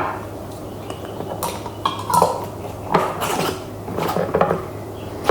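Metal lids set onto glass mason jars of overnight oats, a series of close, sharp clinks and clatters at an irregular pace, with a few louder knocks.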